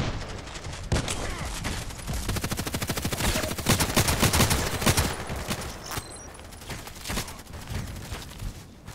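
RFB rifle in the video game Contract Wars fires rapid bursts of crisp, repeated shots with short pauses, loud and close, and no voice is heard.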